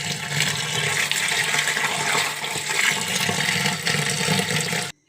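Water pours in a loud, steady rushing stream for several seconds over fenugreek seeds and newspaper, then stops abruptly.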